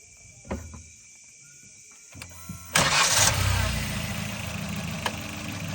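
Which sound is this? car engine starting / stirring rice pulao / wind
car engine starting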